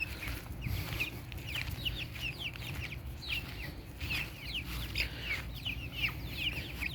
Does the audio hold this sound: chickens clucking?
yes